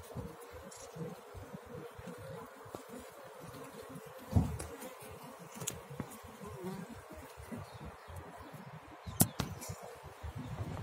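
Bees swarm around a large, aggressive hive lodged in a house roof, their steady buzzing filling the air with occasional louder passes close by, with no talking.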